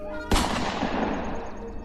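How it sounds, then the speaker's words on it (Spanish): A sharp, loud bang followed by a long rumbling decay, like a gunshot echoing, with no other sounds around it. "él saca un arma y le propina unos disparos"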